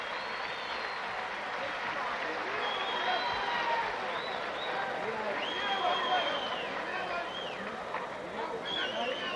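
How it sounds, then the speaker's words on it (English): Sustained applause and crowd noise fill a boxing venue in Indianapolis at the end of a bout, a steady dense wash of clapping and cheering with a commentator's voice running over it. "Kelsi Bэнks, standing ovation from the partisan crowd here at Indianapolis."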